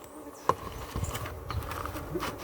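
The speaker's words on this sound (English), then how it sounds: "These bees working nice, man." Honey bees buzz at an open hive, a soft, uneven insect drone with scattered taps and handling knocks close by.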